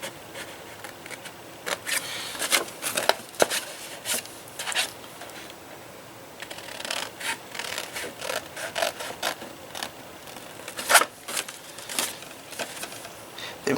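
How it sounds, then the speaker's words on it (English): Paper being cut along score lines while making a 9-inch Santa tag box, a series of close, crisp snips and rustles in irregular bursts, with small handling noises between. "on the 9" side, I'm going to cut up on the score lines"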